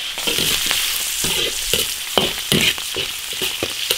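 Cured pork stir-frying in a hot wok as its fat renders, a steady close sizzle with repeated sharp clatters and scrapes of a spatula stirring through the pieces.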